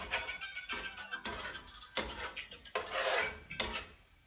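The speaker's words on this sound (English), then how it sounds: "Stir it around again." A utensil scrapes and stirs food around a cooking pot after a splash of water is added, giving a run of quick, uneven rasping strokes close by with no talking.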